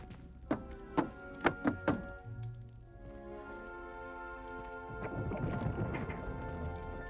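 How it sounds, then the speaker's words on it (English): A barrel in Hogwarts Legacy is tapped in a set rhythm, five distinct hollow knocks in an uneven pattern over a soft musical background, followed by a rising shimmer of magical sound. "You must tap the barrel, 2 from the bottom, middle of the second row, in the rhythm of Helga Hufflepuff"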